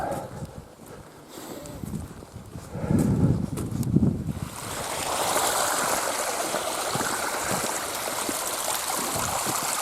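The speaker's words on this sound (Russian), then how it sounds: "смотрите, какие ручьи" Steady rushing rainwater streams pour continuously, broad and close, with wind buffeting the microphone and a few thumping footsteps early on.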